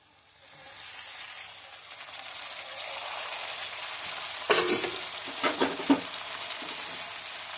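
Brinjal and tomatoes sizzle steadily in a frying pan, a continuous close hiss with a few louder scraping stirs near the end, no voices.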